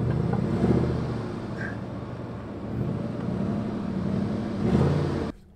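An off-road vehicle, high-centered in silty dirt on an Owyhee overland route, revs in a low, steady rumble that swells and eases a few times before cutting off abruptly, heard up close without talk.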